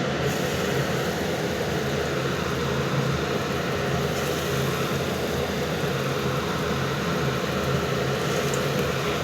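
Ridge gourd peels dropped into hot oil in a kadai, giving a steady, even frying hiss and crackle that holds at the same level throughout, with no voices.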